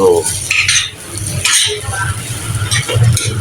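Garlic fried rice cooking in a pan outdoors, with loud metallic clanks and scrapes of a utensil against the pan over a soft sizzle, and a voice speaking intermittently.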